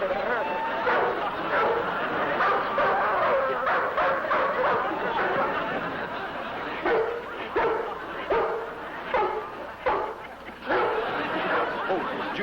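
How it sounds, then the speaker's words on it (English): A big dog loose in a yard barks and yips in a string of sharp, repeated bursts, loud and close, with people's voices talking over it. "There's a big dog running loose in the yard"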